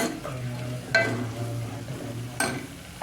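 A Gujarati eggplant dish is stirred in a pan after garam masala is added, with two clear spatula scrapes over a low, steady cooking sizzle.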